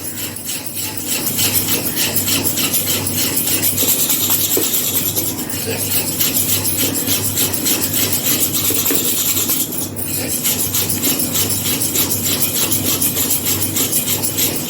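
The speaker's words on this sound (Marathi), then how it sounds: "चांगली पंधरा मिनटं आपण चांगलं फेटून घेऊया" Rasam vada batter being beaten by hand for a long stretch, a steady rasping, rubbing scrape that repeats in a fast even rhythm, loud and close, with no talk.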